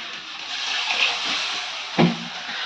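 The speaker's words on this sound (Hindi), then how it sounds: "इसमें थोड़ा सा डालेंगे पानी" Water poured into a cooking pot holding four potatoes, a steady hissing splash lasting a couple of seconds with a short louder splash near the end, close up and without talk.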